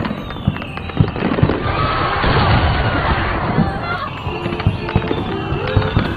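Fireworks burst at midnight during a film's outdoor party scene, a dense continuous barrage of crackling explosions and booms over crowd murmur, loud and sustained throughout.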